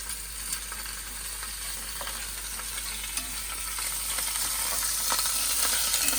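Beef browning for jambalaya sizzles steadily in a hot pan, a dense continuous crackle with small pops and occasional stirring scrapes, growing slightly louder toward the end; no one speaks.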